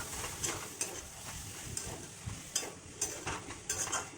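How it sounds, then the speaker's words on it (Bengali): Ginger paste, tomato and whole garam masala sautéing in a pot for a soybean dish, with a soft steady sizzle and quiet, repeated stirring scrapes at an irregular rhythm. "এই মশলাটাকে দিয়ে এবার সুন্দর করে কষিয়ে নিতে হবে। একটু দিয়ে দিলাম গোটা গরম মশলা।"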